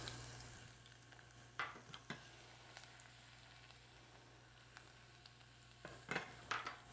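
Five garlic cloves frying in a pan, a faint steady sizzle broken by a few soft clicks and scrapes of stirring, with no voices.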